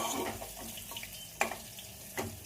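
Green chillies sautéing in a pan for khichdi, a soft continuous sizzle with occasional scraping stirs and light knocks, close and fairly quiet.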